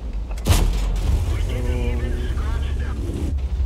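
Tank gun firing in World of Tanks, aimed at a T10: one sharp, heavy boom early on, followed by a rumbling engine and clanking tracks while someone talks over the action.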